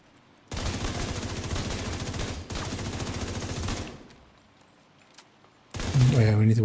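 Weapons shoot in rapid automatic bursts in a video game, two loud sustained rattling volleys with a short break between, then a quiet gap before a louder burst of other game sound at the end.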